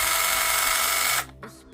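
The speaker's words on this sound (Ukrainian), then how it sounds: "Щоб запустити пилу, натискаємо або вправо, або вліво фіксатор. І тоді клавішу пуску." A Dnipro-M CS-12 cordless chainsaw runs with a loud, steady electric whine close by, then cuts off abruptly and leaves near silence with a brief faint blip.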